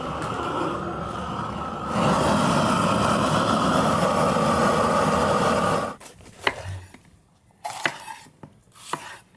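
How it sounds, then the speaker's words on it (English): A blowtorch roars steadily and loud while lighting a wood cooking fire for grilling, then cuts off, leaving a few sharp knocks, clicks and crackles from the wood. "You have to light your fire with a blowtorch."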